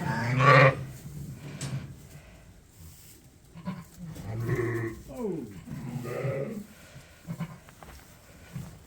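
Several sheep and lamb bleats in a lambing barn, one loud and close and others softer, over a background of rustling and a brief murmur of voice.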